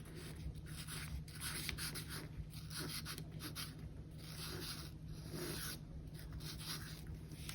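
A pen scratches across paper in short strokes and pauses, a faint, close, soft scratching over a steady low background hum.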